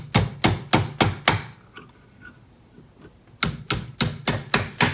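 Leather mallet striking a wide band metal ring, a close series of sharp, regular blows in two bursts with a short quiet gap and a few lighter taps between them.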